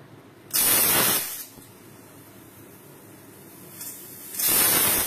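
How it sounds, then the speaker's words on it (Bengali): A pressure cooker cooking dal lets off two loud hissing whistles of steam, one near the start and another at the end, with a softer steady hiss in between. "দুটো সিটি দেওয়ার পরে দেখো, প্রেসার কুকারটা আমি খুলে নিয়েছি।"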